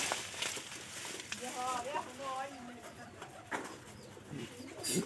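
Pigeons coo inside a house in short, repeated, low warbling phrases, faint beneath nearby talking and light household noise.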